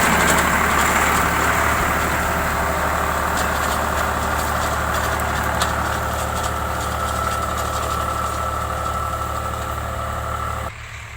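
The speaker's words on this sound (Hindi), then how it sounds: "इसको हम उन्नत खेती करने के लिए ट्रैक्टर से बखर देंगे" A tractor harrowing a weedy field before wheat sowing, its engine droning steadily and loudly up close, a constant low rumble with no talk, cutting off near the end.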